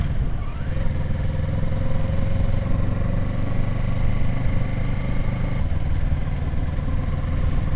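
Motorcycle riding with a GoPro Hero 9 setup, a steady, close engine drone with harmonic whine rising and falling slightly over about eight seconds, continuous with no voices.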